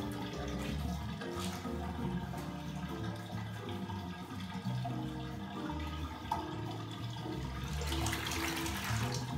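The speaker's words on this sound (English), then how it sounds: "Now let's pull the plug on our tub and let some of that water out." Water drains out of a bathtub once the plug is pulled, with the tub being used to wash a trombone. It makes a continuous gurgling rush with small splashes and swells slightly louder near the end, and no one speaks.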